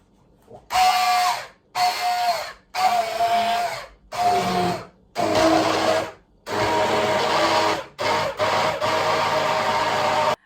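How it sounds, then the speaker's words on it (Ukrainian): An immersion blender whirs through hot soup in repeated bursts of a few seconds each, with short pauses between, loud and close, the motor pitch shifting as it churns the liquid. "Ми зараз повинні діяти погружним блендером"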